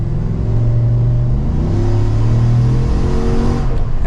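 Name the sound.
Procharged 2024 Chevrolet Silverado ZR2 truck engine accelerating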